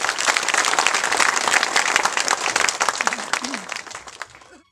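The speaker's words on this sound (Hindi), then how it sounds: "जोरदार तालियां" Lively crowd applause at a village honoring ceremony in a Haryanvi film, thick rapid clapping that stays strong before tapering off, with a brief voice rising near the end.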